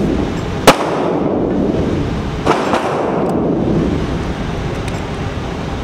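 Taurus G3 pistol fired at a target from five meters: a few sharp, isolated shots spaced seconds apart, heard over steady wind-like background noise.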